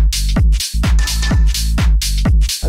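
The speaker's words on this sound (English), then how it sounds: "I'll play you just the hi-hat and clap on their own" Tech house drum samples of hi-hat and clap play alone in a tight, repeating groove, with crisp off-beat hi-hats and a punchy clap over a deep low thump, loud and upfront.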